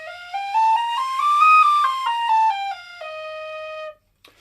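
A tin whistle pitched below its usual D key plays a run of clear, sustained notes stepping up and then back down, loud and close with no talking.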